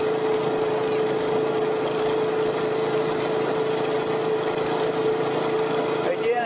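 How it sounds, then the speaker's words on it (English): A motorcycle engine hums steadily at a constant pitch during a road ride in Phayao, Thailand, loud and continuous, with a faint rattle near the end. "excuse the shakiness and the sound of the motorcycle engine"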